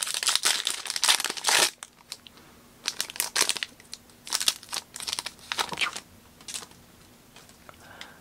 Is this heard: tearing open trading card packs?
yes